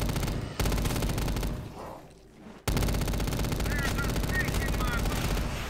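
Gunfire in a zombies shooter game, loud rapid automatic bursts that drop out briefly and then resume at full intensity.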